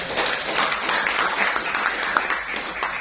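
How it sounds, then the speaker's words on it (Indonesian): An audience at a geology book launch breaks into dense, sustained applause that fills the whole stretch at an even level, with faint voices mixed beneath. "Tepuk tangan untuk mereka"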